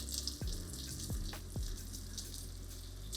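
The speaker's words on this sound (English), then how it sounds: "drop that sausage in and let it cook until they got a beautiful sear on it" Sausage sizzling as it sears in a pan, a steady dense crackle and hiss close up with occasional low knocks, no talking.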